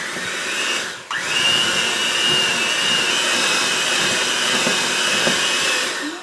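An electric mixer whirs through chocolate buttercream frosting with a steady high-pitched motor whine, close and continuous after a brief dip and restart, with faint clicks from the bowl.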